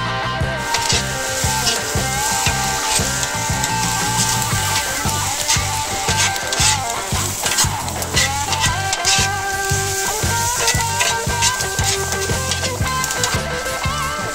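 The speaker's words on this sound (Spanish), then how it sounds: "Y enseguida echamos nuestro lomo en bife a la plancha" Beef loin steak sears on a hot griddle, a loud, steady sizzle and crackle of frying fat holding evenly throughout, close up with no talking over it.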